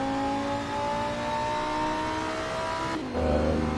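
A racing car's engine holds a steady high whine at speed on the Autodromo di Pergusa circuit in Assetto Corsa, then drops sharply as the revs fall near the end.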